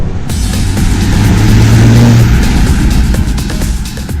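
Mercedes-AMG C43 Coupe with its rear-biased all-wheel drive, engine droning loud and steady from inside the car while driving, a continuous low rumble mixed with road noise that swells slightly mid-way, with no talking.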